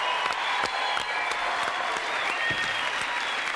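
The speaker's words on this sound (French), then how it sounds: "applaudissements pour Bruno Liévin" A French television studio audience claps in a dense, steady wash, fairly loud and even, with a few sharper individual claps standing out and no voices.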